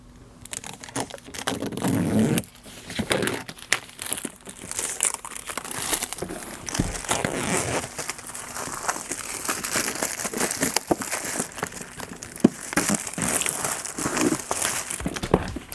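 An Apple Certified Refurbished MacBook being unboxed, its packaging crinkling and rustling close up in a long, continuous run of crackles and brushing sounds with occasional louder snaps.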